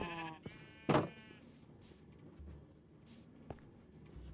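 A single sheep bleat rings out in a Minecraft-style survival game on Skybedrock, a clear harmonic call near the start followed by a louder bleat about a second in, then faint ambient game sounds and a soft click.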